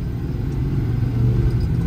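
A Ford truck engine runs steadily while driving, a smooth low rumble with mild shifts in pitch, close and continuous with no one talking.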